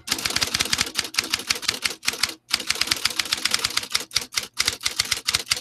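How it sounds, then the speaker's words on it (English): Rapid, steady electric typewriter keystrokes clack in bursts close by, broken by a couple of brief pauses, with no voices. "My old timey typewriter."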